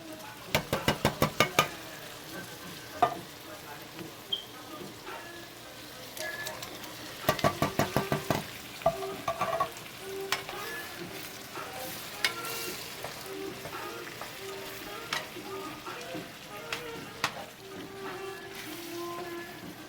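Tomatoes frying in a pan with a steady sizzle, broken by bursts of rapid metallic stirring and scraping taps, close by, with occasional talk over the cooking.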